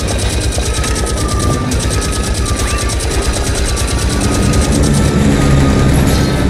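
Approaching aircraft in the video game The Saboteur produce a loud, throbbing engine drone with a fast regular pulse that swells slightly toward the end, mixed with mechanical game noise.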